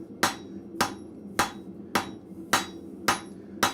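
A blacksmith's hammer strikes steel in a forge, seven sharp, evenly spaced ringing blows about every half second, close and loud with short decays, no talk.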